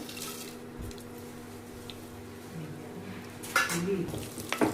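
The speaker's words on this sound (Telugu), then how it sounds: "ఇదిగోండి తాలింపుకి సంబంధించిన అన్నీ వేసుకుందాము" Spices for tempering hit hot oil in a pot for chicken biryani, giving a soft, continuous sizzle with a few louder crackling bursts near the end.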